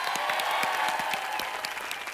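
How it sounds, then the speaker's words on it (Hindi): Studio audience applauding guests on the set of a Hindi comedy talk show, a steady wash of dense clapping that holds at one level for the whole stretch, with no voices over it. "जोरदार तालियां हो जाए।"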